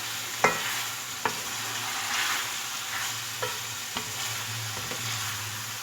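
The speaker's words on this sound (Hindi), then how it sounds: "अब चिकन को फ्राई करना है।" Chicken frying in a pan for biryani, a continuous close sizzle broken by occasional sharp taps of a stirring spoon.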